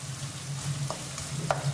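Butter being stirred into freshly melted sugar caramel in a pan gives a steady low sizzle with a few soft scrapes and clicks, close and continuous, with no voices.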